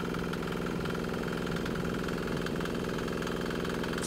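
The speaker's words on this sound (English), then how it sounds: "So here's this little thing just kind of chugging away, getting that last little bit of diesel out of that injector line" A small 196cc single-cylinder diesel engine running on waste motor oil chugs steadily at idle with a rapid, even knocking pulse. It is close and moderately loud, with no voices.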